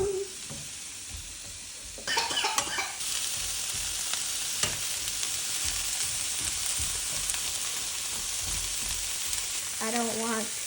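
Zucchini sticks fry on an at-home hibachi griddle, hissing and sizzling loudly and steadily while being stirred and scraped, with brief bits of voice near the start and end.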